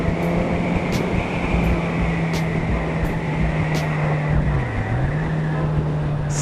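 A Kawasaki Z1000 motorcycle engine drones steadily while riding, its pitch dipping briefly near the end, under a constant rush of wind noise.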